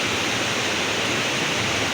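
Cold snowmelt river rushing through a mountain valley at the confluence of two rivers in Bahrain, Swat, a steady, dense broadband roar of flowing water, close and continuous with no voices.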